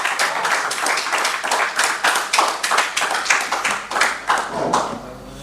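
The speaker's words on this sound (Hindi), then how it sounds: "आपकी तालियां यहाँ आए तक रुकनी चाहिए" Audience at an Urdu-Hindi poetry event claps in rhythmic, loud bursts as a poet is called to the stage, the steady beat carrying on for several seconds before fading out.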